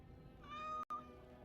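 A cat in the fantasy role-playing game Dragon Age: Origins gives a single clear, close meow that rises and falls, cut by a brief gap of silence near the middle.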